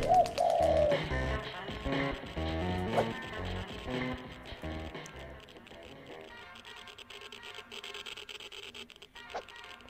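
Pigeon cooing in the video game Jazzpunk, a short warbling coo at the start over game music and sound effects that fade into quieter ambience.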